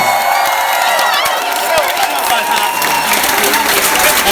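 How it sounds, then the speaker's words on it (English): Concert crowd at a show at Mr. Smalls in Pittsburgh bursts into loud, sustained applause and cheering for the crew, dense clapping filling the room throughout. "let's have a round of applause for the crew"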